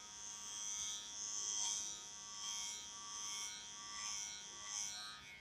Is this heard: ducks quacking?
no